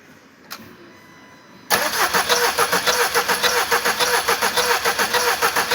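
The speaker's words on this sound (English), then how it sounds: "give us a bit of a crank over again" A Mercedes B-Class engine cranks over after a faint click, the starter turning it in a steady, loud, rhythmic churn that continues without catching.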